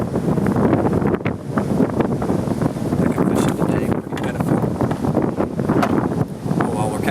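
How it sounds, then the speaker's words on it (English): Wind blows across a lake around a small bass-fishing boat, a loud, continuous gusty rumble buffeting the microphone, with people talking underneath. "And the wind's picking up too."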